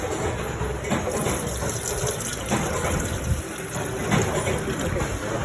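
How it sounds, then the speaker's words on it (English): Cold water gushes and splashes into an electric kettle in a loud, uneven pour with surges and bubbling, close by and without speech. "Now again put some cold water for fast cooling."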